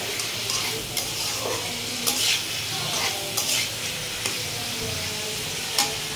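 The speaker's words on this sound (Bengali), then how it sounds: "ভেজে নিচ্ছি" Food fries in a pan with a loud, continuous sizzle, broken by repeated scrapes and stirs of a utensil against the pan.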